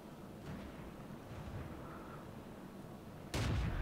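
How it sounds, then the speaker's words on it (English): A 75mm howitzer firing a high explosive shell in World of Tanks booms abruptly after a stretch of low rumbling battle ambience, with one heavy, fairly close shot. "it is a howitzer, so you really, really have to lead your shots"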